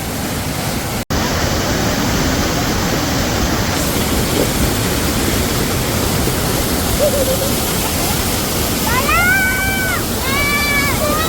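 A steady, loud rushing roar of falling water from Chemban Kundu waterfall near Puthanathani fills the whole stretch, with a few short tonal calls rising over it near the end.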